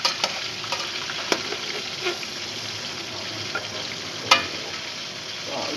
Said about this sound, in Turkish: Bunu kızgın yağda kızartacağız hafiften hafiften.